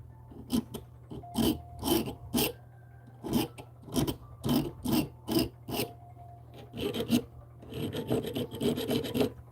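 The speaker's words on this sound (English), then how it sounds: "this is basically like automotive detailing sandpaper, wet sandpaper" Wet automotive detailing sandpaper rubbed back and forth on a workbench piece in a steady rasping rhythm of short close strokes, with a faster, denser burst of scrubbing near the end and no talking.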